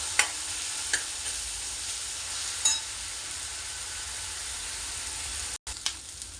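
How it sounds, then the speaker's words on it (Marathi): Green chili paste sautéing in a pan for spicy dahi pithla, with a steady close sizzle and a few brief scrapes of stirring, no voices. "मिरचीचं जे वाटण केलेलं होतं ते टाकत आहोत. याच्यात ते सुद्धा परतून घेणार आहोत आपण."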